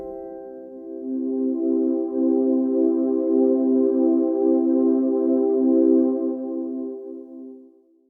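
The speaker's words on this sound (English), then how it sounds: "What we're talking about today is specifically a synth pad, which sounds like this." A Nord Stage keyboard plays a sustained synth pad chord for worship, a soft, warm and even tone that swells gently, holds for several seconds and then fades out, heard alone.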